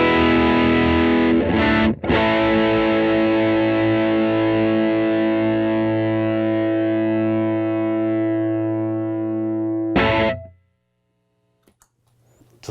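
Electric guitar driven through an EarthQuaker Devices Plumes overdrive pedal with every knob at noon: a couple of quick strums, then a long gritty, harmonically rich chord ringing close before being cut off into near silence.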